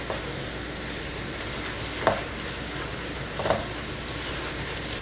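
Eggs are stirred into butter in a hot pan of sautéed ingredients, a steady low sizzle with a couple of soft scraping stirs, close and fairly quiet.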